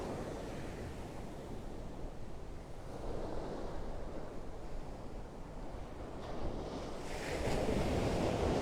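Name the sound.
ocean waves of incoming tide on beach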